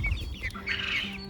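Hens and a small young rooster cluck and squawk close by in a garden flock, a quick burst of overlapping fowl calls with no talking.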